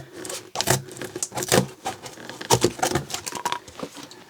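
Industrial shears cutting through thick double-layered corrugated cardboard, a series of crunchy, rasping snips and crinkles in irregular bursts, close and fairly loud.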